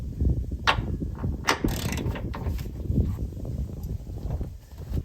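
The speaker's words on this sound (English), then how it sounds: "So this is the 21 millimeter deep socket. Let's see how tight the 21 millimeter is." A ratchet with a 21 mm deep socket loosens a bumper bolt on a 2022 Ford F-350 Super Duty Tremor, giving close, repeated metallic clicks and clanks in an uneven rhythm, with no talking.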